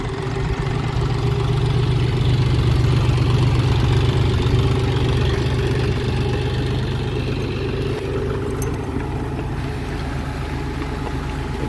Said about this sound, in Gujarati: ટ્રેક્ટર ચાલુ કરે છે ચાલુ કરી દીધું